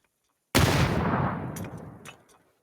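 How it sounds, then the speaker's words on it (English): A grenade explodes in a video game, one sudden loud broadband blast that rolls off and decays over about two seconds, with scattered gunfire cracks in the tail and no talking over it. "Oh, there's a grenade coming down."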